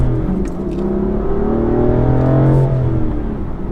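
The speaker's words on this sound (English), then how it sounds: "Let's give it a little gas here." A BMW M4 with its stock exhaust revs and accelerates hard, a loud, close engine note climbing in pitch and growling continuously with no talking.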